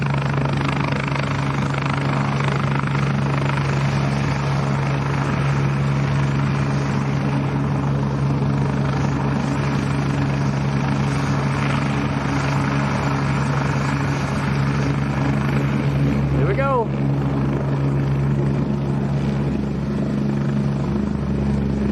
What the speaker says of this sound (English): Quite a noisy helicopter when you get up close.